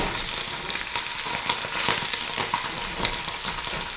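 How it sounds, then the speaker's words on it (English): Steak sizzles loudly in a hot pan, a dense continuous crackle with sharper pops now and then, close up and without voices. "we're going to lay that steak in like that. And you want to hear that sizzle"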